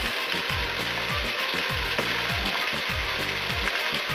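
Sauce for borscht sizzles steadily in a pot, a dense close frying hiss with regular scraping stirs running throughout, no voices.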